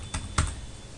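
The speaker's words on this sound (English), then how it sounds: "I'm typing the same username as a password." Two sharp keystrokes on a computer keyboard tap close by against a steady background hiss, with no voices.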